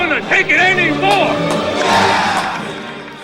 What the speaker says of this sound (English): The whole bar is cheering